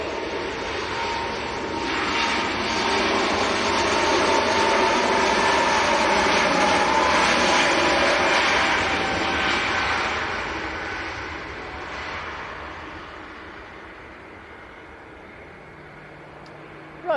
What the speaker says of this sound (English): This is Lufthansa to Munich, Airbus A320 Neo.